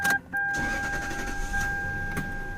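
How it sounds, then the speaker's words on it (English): A steady power window motor whine with two sustained tones runs for a couple of seconds inside a 2002 Lexus LS430, with a brief dip near the start. "I'm going to show you guys the power window."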